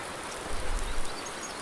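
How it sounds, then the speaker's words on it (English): Steady rain in Farming Simulator 19 on an Irish farm map makes a constant soft, even hiss with no other sounds or voices. "Because it's still raining out."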